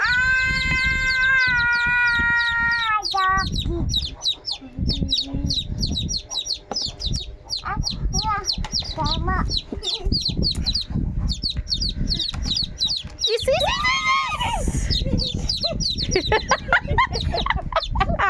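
Chickens cluck close by in a busy, uneven stream, with a drawn-out crowing call at the start and another later.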